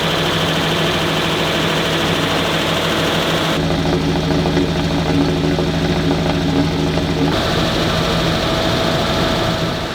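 A Land Rover engine idles steadily while warming up, a constant close rumble with a brief shift in tone partway through; no talking.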